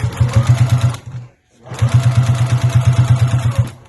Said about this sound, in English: When I get to the middle here, I like to back stitch right here along the seams just to secure it